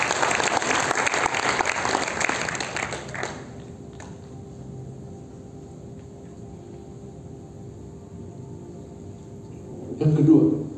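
A church congregation applauds during a Christmas sermon, loud dense clapping for about three seconds that fades into quiet room tone, followed by a short burst of noise near the end.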